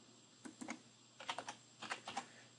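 Several quick bursts of keystrokes on a computer keyboard as a password is typed during setup of security software on a network appliance, soft, close clicking in short clusters with pauses between.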